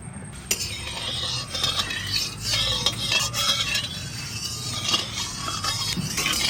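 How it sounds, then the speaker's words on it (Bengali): Mustard oil hitting a hot wok while pabda fish in mustard-poppy sauce is being cooked, giving a steady sizzle and crackle with scattered metallic clinks and stirring scrapes, close and fairly loud throughout. "কড়াই গরম হয়ে গেছে, তেল দিয়ে দিই,"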